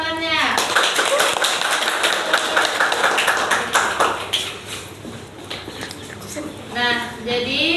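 Primary school classroom of students clapping together for a group, a rapid run of hand claps that fades out, with a child's sung or chanted voice at the start and end.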